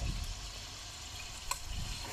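Chicken curry with tomato paste sizzles softly in a pan while being stirred, a faint steady frying hiss with one brief clink of the spoon near the middle.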